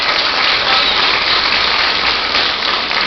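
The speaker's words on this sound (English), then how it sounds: "So yes, let's give them a round of applause." A room at a school board meeting gives a round of applause for student SkillsUSA medal winners, producing a dense, even wash of clapping that stays loud for the whole stretch.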